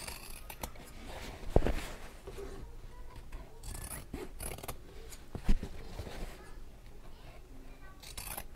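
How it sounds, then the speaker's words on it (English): Scissors trimming a fabric seam on a handmade bag, with repeated close snips and soft rustling of cloth, plus a couple of sharper clicks along the way. "I'm going to trim this whole seam just a little bit"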